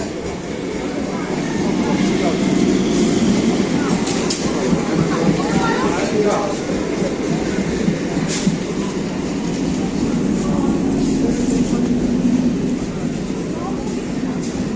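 A train pulls into a station platform with a sustained, rumbling roar and rattling wheels, heavy and close for the whole span, while people talk nearby.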